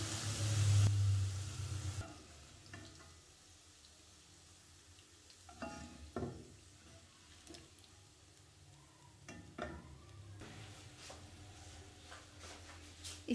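Chicken pieces frying in hot oil, a steady soft sizzle with a louder burst at the start and scattered pops and stirring clinks through the middle.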